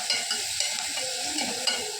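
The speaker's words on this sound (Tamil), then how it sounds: "தக்காளி நல்லா வதங்குற வரைக்கும் எண்ணெய் பிரிஞ்சு வருது" Tomatoes sautéing in oil in a pan give a steady, close sizzle with light stirring scrapes, running continuously without talk.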